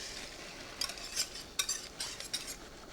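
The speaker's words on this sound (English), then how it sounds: "And then just stir it and it'll thicken the soup right away." Clam soup thickened with a roux being stirred in a pot, a spoon scraping and swishing in soft, irregular strokes over a steady low background, with no talking.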